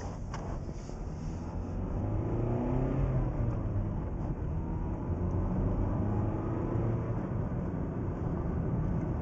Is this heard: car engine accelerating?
yes